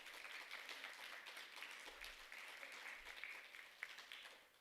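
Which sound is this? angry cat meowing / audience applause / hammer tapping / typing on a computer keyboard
audience applause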